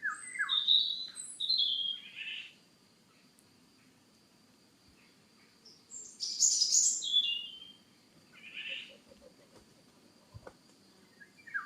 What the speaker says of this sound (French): Petits rouge-gorge qui se sentent observés.